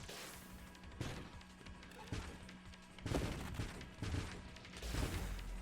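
Missile blasts from a spaceship shooter game, Nova Drift, burst out in several clusters of crashing, crackling impacts over a steady synthetic hum, with bigger thumping bursts arriving in the later seconds.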